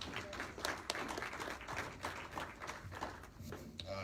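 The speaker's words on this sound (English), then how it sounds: "A big round of applause for Joe Richmond." Audience applause honoring Joe Richmond at a Jackson County chamber and realtor awards event, a dense, steady patter of hands with a few sharper claps, moderately loud and close, lasting the whole stretch with no talk over it.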